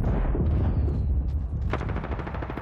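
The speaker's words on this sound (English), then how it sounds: "Shots fired, and they're hitting me." Gunfire in Apex Legends, a loud close burst of rapid automatic shots with heavy booming low end and rattling repeats continuing throughout.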